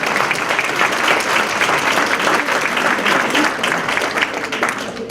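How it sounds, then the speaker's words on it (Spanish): Applause from an audience at a swearing-in ceremony, continuous dense clapping that holds steady for the whole stretch and tapers slightly near the end. "Le damos nuestros aplausos"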